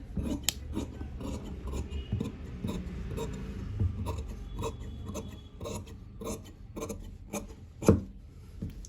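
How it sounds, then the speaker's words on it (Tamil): Scissors snip through blouse fabric in a quiet room: a close, steady series of crisp cuts and rasping slides, with a sharper snap near the end and no talking. "அப்போ நம்ம இதை கட்டிங் வெட்டிடலாம்."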